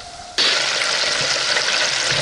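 Homemade KFC-style chicken dropped into a deep fryer at 155 degrees sets off a sudden loud, steady hiss of bubbling oil that follows a quieter lead-in.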